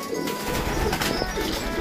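Racing pigeons coo softly and steadily in a loft, a continuous low murmur of overlapping calls close by with no talking.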